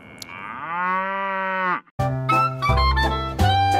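Cows on a farm low in several loud, close moos: one long drawn-out call, a brief pause, then overlapping deeper moos from more than one animal.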